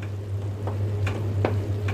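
Chopped ridge gourd and tomato cook in a pan, giving a steady close sizzle broken by a few sharp scraping strokes of the stirring spoon, over a low constant hum and with no voices.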